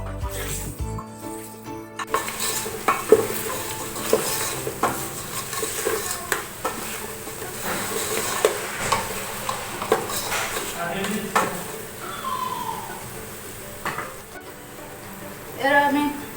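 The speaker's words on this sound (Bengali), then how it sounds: "একটু নাড়াবো।" A spoon stirs mutton yakhni pulao in a rice cooker pot, scraping and clinking against the metal with soft sizzling underneath, repeated strokes running throughout, fairly close with faint background noise.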